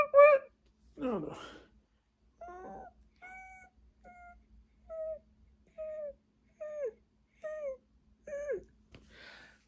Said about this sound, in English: That's a dog squeaking.